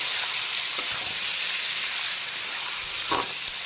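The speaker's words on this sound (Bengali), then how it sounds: "এখন বেশ কিছুক্ষণ সময় নিয়ে পেঁয়াজটাকে ভাজা ভাজা করে পেঁয়াজের কাঁচা গন্ধটাকে কাটিয়ে নিতে হবে।" Chopped onions fry in oil with whole spices and cumin while a chicken curry is being made. A close, continuous sizzle and hiss runs throughout, broken by a couple of brief stirring scrapes, with no voices.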